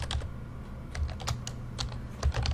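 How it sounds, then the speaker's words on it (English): Rapid clicking of keys on a computer keyboard while a save shortcut is pressed in Microsoft Excel 2016, with steady close keystrokes and no voices. "Control S on your keyboard does the same thing"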